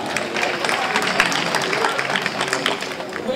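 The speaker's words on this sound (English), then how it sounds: "Can we please give a hand of applause for him?" Audience clapping at a launch event for a Cameroonian movie in Antwerp, Belgium, a moderately loud scattered round of applause with some crowd murmur mixed in.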